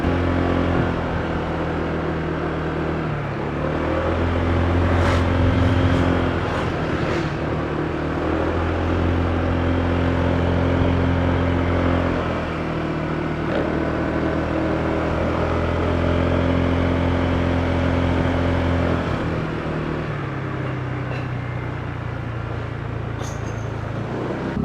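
A motorbike ridden in Bali drones steadily with a low engine note and shifting pitch, with road and wind rumble filling the background throughout and no talking.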